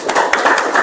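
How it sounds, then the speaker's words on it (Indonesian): Classroom audience briefly claps after a student group finishes its presentation, a short burst of sharp, close handclaps. "Tepuk tangan."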